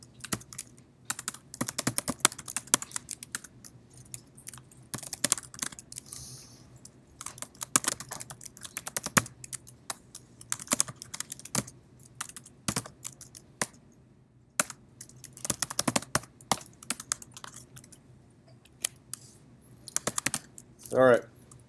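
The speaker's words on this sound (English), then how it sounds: "I'm gonna type in the entire program" Fingers type a C++ program on a computer keyboard, producing a long run of close, sharp key clicks in irregular bursts with short pauses between them.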